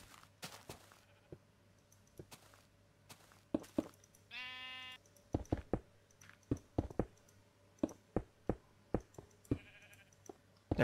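Minecraft sheep bleat once in a short, wavering call amid a steady run of sharp clicks and block-breaking taps, with a second fainter bleat near the end; no talking.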